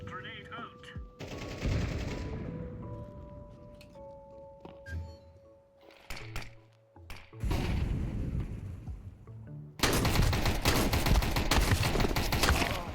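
Shotgun blasts and bursts of gunfire in a kobold video game, loud and dense, with a quieter stretch of clanks and thuds in the middle before a sustained roar of shooting at the end; a voice talks over parts of it.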